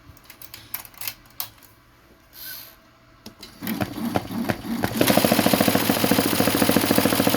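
A Tajima embroidery machine starts after a few scattered clicks and knocks, then settles into a loud, fast, steady mechanical clatter of needle strokes running continuously.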